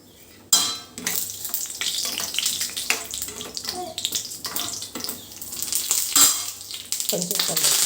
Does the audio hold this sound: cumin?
yes